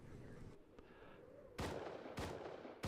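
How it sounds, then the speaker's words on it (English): Three loud gunshots ring out in the video game Rust, spaced roughly half a second apart after a quieter stretch of background noise, each a sharp broadband crack with a short tail. "Again with the gunshots."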